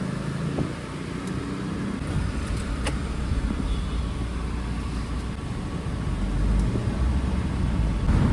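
Steady low rumble of a car engine and road noise from inside the cabin while driving with the windows down, continuous and fairly loud, swelling slightly near the end.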